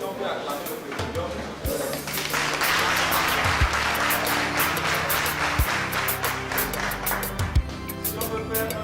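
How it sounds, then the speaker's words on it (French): Indoor audience at a reforestation training event in Atakpamé, Togo, bursting into sustained applause for the president, dense clapping that swells after the first seconds and stays loud, with voices talking in the background. "Si on peut acclamer le président."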